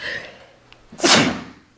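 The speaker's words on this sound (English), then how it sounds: "And I'm going to sneeze." One sharp, close sneeze from someone getting over a head cold, with a quiet intake of breath just before the burst and a short fading tail after it.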